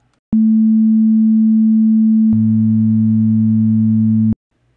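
A pure sine tone runs through a ChucK limiter set to a 0.8 threshold. After two seconds a second, lower sine wave joins it, and the combined steady hum holds at the same loudness before both cut off abruptly.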